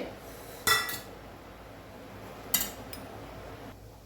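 Chopped coriander and greens are mixed in a bowl for a crispy evening snack, with two sharp utensil clinks against the bowl over a quiet background.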